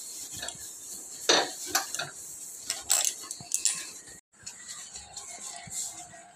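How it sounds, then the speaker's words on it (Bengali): A Scotch-Brite scrub pad wipes a gas stove in uneven, scratchy strokes with occasional light clinks, close and fairly quiet, with a brief silent gap partway through. "স্কচ ব্রাইট দিয়ে পুরো গ্যাস মুছে নিই"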